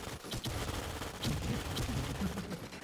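Gunfire in a shooter video game, a dense run of shots and bursts under a steady wash of game noise, with a few sharper cracks standing out.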